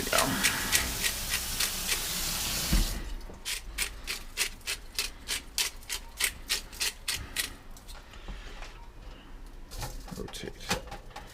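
A hand grinder grinds seasoning over lamb chops in a cast iron pan, heard as a run of quick rasping twists, first a dense steady burst, then separate rhythmic strokes close by, with brief pauses between.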